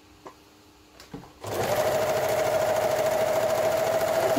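After a few light clicks, an overlock machine starts up and runs steadily, neatening a fabric edge for a fly zip with a close, even mechanical hum and rapid stitching rattle that continues to the end.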